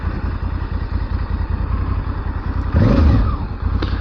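Honda Africa Twin L1 motorcycle engine running steadily while riding, a loud close rumbling drone with a brief surge in intensity near the end.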